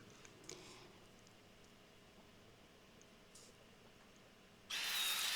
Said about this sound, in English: I am a bit more confident using the power tool now.